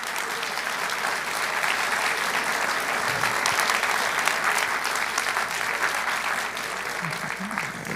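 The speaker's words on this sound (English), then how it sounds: "will you please applaud your neighbor and thank your neighbor for being a part of this?" An audience at a parent leader forum with the mayor and schools chancellor claps together in a dense, steady round of applause that holds at an even level throughout.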